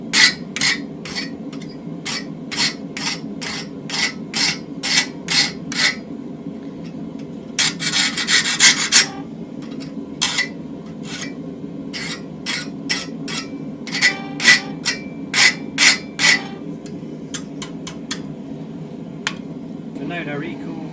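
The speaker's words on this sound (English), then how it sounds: "I'm going to take it to the vise, file it down." Steel being filed by hand, a hand-forged barbecue fork clamped in a vise, heard as a series of sharp, rhythmic rasping strokes with short pauses, plus one longer scraping burst, while a person talks in a workshop.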